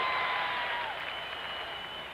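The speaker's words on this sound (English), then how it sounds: "And the fans cheer." Football fans at the 1977 Baylor at Texas college game cheering across a large stadium, a broad, distant crowd roar with scattered applause that slowly fades.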